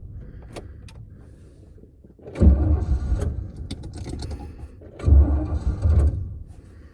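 A 1984 Chevrolet C30 crew cab truck engine runs out of gas and dies, heard as two loud, rough, sputtering low surges about three seconds apart, with quieter running and rattling in between.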